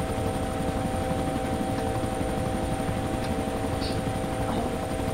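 A helicopter flies in the survival video game DayZ, with a steady, continuous rotor and engine drone that holds at an even level for about five seconds, with no talk over it.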